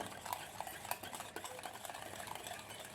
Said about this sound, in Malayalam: ഇനി നന്നായിട്ടൊന്ന് മിക്സ് ചെയ്ത് കൊടുക്കാം